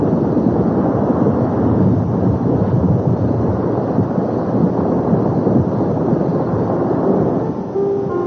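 A night thunderstorm in a TV drama setting, a loud continuous roar of wind, rain and rumbling thunder that fills the whole stretch without a break and has no voices over it.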